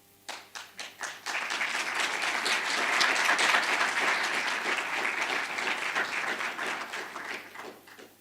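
Audience applause at a university inaugural lecture for a professor, starting with a few scattered claps, then swelling into dense, sustained clapping from a sizeable hall crowd before tapering off.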